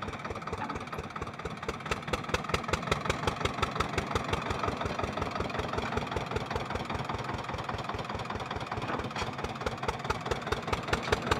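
A single-cylinder tractor engine idles with a steady, rapid thumping pulse, loud and close, and there is no talking. The tractor is coupled to a 7 ft double-shaft rotavator.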